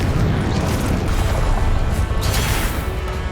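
Confringo fire-blast spell bursts in Hogwarts Legacy combat, a dense rumbling crackle of explosive booms running continuously at close range with no voices.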